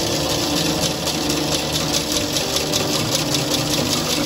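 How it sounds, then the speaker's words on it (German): Electric potter's wheel running steadily in a ceramics studio, giving a continuous loud mechanical whir and hum with a fast rhythmic buzz that stays even throughout, no voices. "Das muss erstmal die Maschine anmachen"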